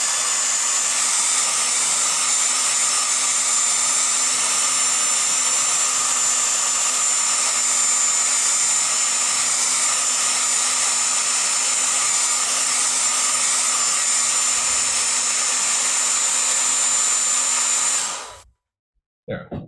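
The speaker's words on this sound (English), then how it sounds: "hair dryer." A hair dryer runs steadily at close range for about eighteen seconds, blowing on watercolor paint, then shuts off abruptly with a brief click of handling after.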